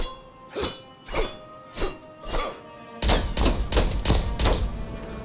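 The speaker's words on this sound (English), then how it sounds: "I do like how the sniper rifle sounds" Sniper rifle shots fire in a video game, a run of sharp booming reports: four spaced shots, then a faster semi-automatic burst of five or six louder, closer cracks.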